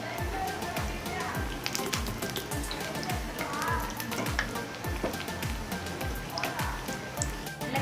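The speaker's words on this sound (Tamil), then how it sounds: "ரெண்டு சைடும் செவக்க விட்டு பொரிச்சு எடுத்துக்கலாம்" Bread cutlets shallow-frying in oil over a medium flame as they brown on both sides, giving a steady, close sizzle with frequent small pops and crackles throughout.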